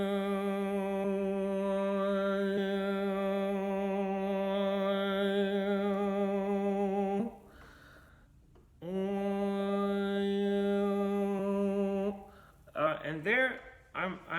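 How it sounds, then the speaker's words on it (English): A solo voice sings a nasal overtone scale with a twangy edge, holding a steady drone while whistling upper harmonics shift in pitch, broken by a short breath, then continuing into quicker, wavering harmonic glides. "I can sing an overtone scale using my nose"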